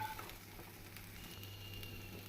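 Grated coconut sautéing in a pan for coconut rice gives a faint, steady sizzle with soft crackles throughout, no voices.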